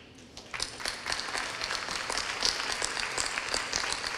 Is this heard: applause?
yes